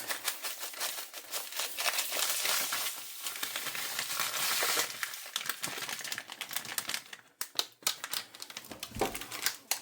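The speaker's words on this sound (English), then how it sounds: "And then give it a good stir." Irish stew being stirred in a pot: a dense, continuous scraping and bubbling sizzle with irregular clinks of a utensil, steady and close, with no talking.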